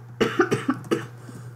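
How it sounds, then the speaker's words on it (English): A run of four or five quick coughs, close and fairly loud, bunched in the first second and then fading to quiet, with a steady low hum underneath. "No, the cough is coming."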